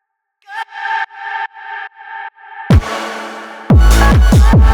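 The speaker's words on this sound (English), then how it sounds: "just like this little melodic hit with a ton of reverb and sidechain and high pass" A short melodic synth stab in an Ableton witch house track, drenched in heavy reverb, sidechained to the kick and high-passed, pulses as a series of ducking chords before pounding kicks with long reverb tails come in.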